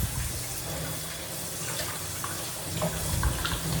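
A kitchen tap runs steadily while dishes are washed under it, giving a continuous close splashing rush of water with a few faint clinks.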